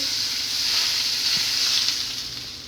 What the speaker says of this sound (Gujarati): ચા ગરમ તેલ આમાં નાખી દેવાનું